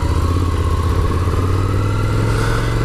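A Ducati Desert Sled motorcycle engine runs at a steady, loud, close idle, a low throbbing rumble with a faint higher whine above it and no voices.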